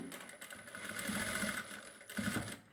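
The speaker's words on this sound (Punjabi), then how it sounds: "ਇਸ ਤਰੀਕੇ ਨਾਲ ਹੁਣ ਆਪਾਂ ਇਹਦੇ ਉੱਪਰ ਸਲਾਈ ਲਗਾ ਦਾਂਗੇ ਡੋਰੀ ਤੇ" A sewing machine stitches along a latkan cord in short bursts, with a steady rapid whirring hum that swells and eases over a few seconds, fairly close and quiet, with no talk.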